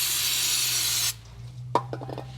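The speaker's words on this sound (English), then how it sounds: "Give the area a bit of a spray with some brake clean." A close aerosol can of brake cleaner sprays in one loud hissing burst for about a second, then cuts off, followed by a few faint clinks, while servicing the brakes of a Mazda CX-7.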